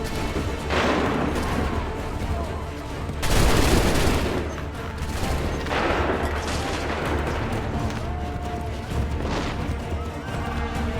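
Musket volleys crack out in Assassin's Creed III, several loud rolling bursts of massed gunfire, the heaviest partway through, over ongoing battle noise.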